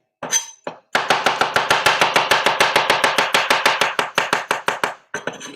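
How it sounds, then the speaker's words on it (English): Garlic is chopped with a knife on a board, a fast, even run of about two dozen sharp, loud chops close by, with a few softer taps before and after. "You have to take the garlic and you chop and then you cut"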